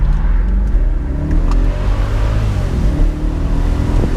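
A 2004 BMW 645i V8 revs hard in sport mode, a loud, continuous engine roar climbing toward 6,500 RPM, heard close from inside the car with no talk.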